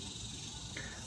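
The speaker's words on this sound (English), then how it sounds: "if you hear noises in the background, those are cicada" Cicadas drone in a backyard, a faint continuous high buzz over low background noise.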